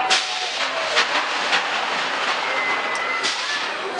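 A Goudurix roller coaster train at Parc Astérix rolls along its track at night, a steady broadband rush with faint clacks and airy hiss throughout, fairly loud and continuous with no talking.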